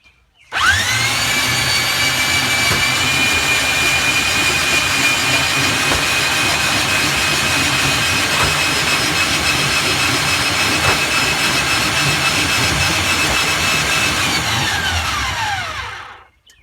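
A powered soil mixer makes a loud, steady motorized whine with a high tonal hum, running continuously for about fifteen seconds, then winds down and stops.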